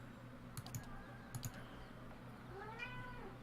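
A cat meows at close range, a rising-falling cry near the end of the clip, over a steady hum with scattered keyboard clicks earlier.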